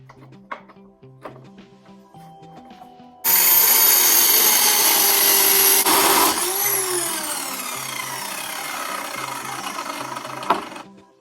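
A power tool cuts three small pieces of metal tube for a mirror-and-shelf project, a loud steady whine that starts abruptly and runs for about eight seconds with a pitch sweep partway through, after quieter background music.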